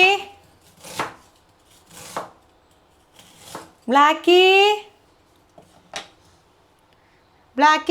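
Knife chopping onion on a board at home, several bursts of rapid close knife strikes separated by pauses, with a voice and a child's high cries heard between them.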